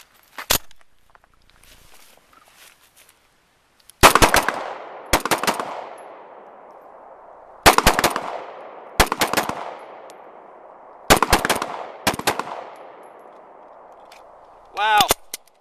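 An Israeli police-issue Jericho 941 pistol fires in sharp, loud shot groups of two or three, each crack followed by a ringing echo tail, with pauses between strings and a few faint handling sounds.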